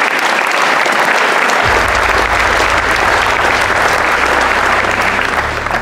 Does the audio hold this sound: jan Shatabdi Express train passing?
no